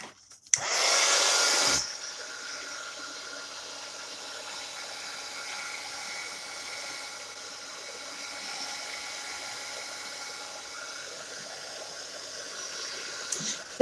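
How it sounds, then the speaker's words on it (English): A heat gun blasts loud for about a second while drying a glitter coat on a junk journal cover, then drops to a softer, steady whooshing hiss with faint clicks at the start and end. "And we're going to heat gun it."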